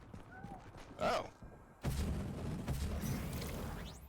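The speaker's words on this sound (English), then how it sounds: "someone's firing off fireworks." Distant fireworks being fired off, a couple of muffled booms and thuds, one sharp burst followed after a pause by a longer rumbling volley, faint and far away beneath quiet background sound.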